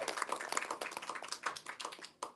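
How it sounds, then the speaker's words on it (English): Audience applause at a live event at Barnes & Noble at The Grove, a dense patter of hand claps from a nearby crowd that rises and falls over a couple of seconds, with no talking. "So let's give Lefty a big thunderous round of applause."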